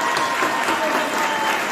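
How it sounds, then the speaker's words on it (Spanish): A church congregation applauds the fathers present on Father's Day, a dense burst of steady clapping from a crowd, loud and close, with no voices above it. "vamos a darle un gran aplauso a todos los padres que están acá presentes"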